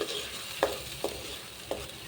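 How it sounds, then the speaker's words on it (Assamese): Mustard fish curry paste being stirred in a pan, with three distinct spoon scrapes at irregular intervals over a faint, steady background hiss; close and fairly quiet, with no talking. "এতিয়া অকণমান মিলাই ল'ম"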